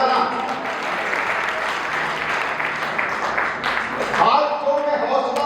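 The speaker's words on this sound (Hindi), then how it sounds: "तालियां बजाना।" An audience claps along at a poetry recitation, a steady wash of applause with voices mixed in and a brief louder burst near the end.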